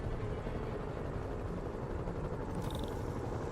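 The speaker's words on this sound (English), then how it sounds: "Bet I can use those helicopters to swing" A helicopter in a Spider-Man video game gives off a steady, dense rotor rumble and whirring drone, close and unbroken throughout.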